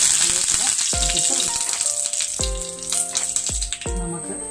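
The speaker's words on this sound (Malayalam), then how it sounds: "കടുക് പൊട്ടി വന്നിട്ടുണ്ട്" Mustard seeds spluttering in hot oil in a pan for carrot pickle, a close crackling sizzle with sharp pops and a few ringing metallic knocks against the pan.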